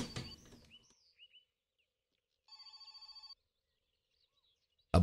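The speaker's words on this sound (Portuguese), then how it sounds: "Ó, o telefone tá tocando, não vai dar pra atender agora não." A telephone ringing in the game My Summer Car, one short burst of rapid bell trills in a quiet room, with faint chirps before it and a loud thump at the end.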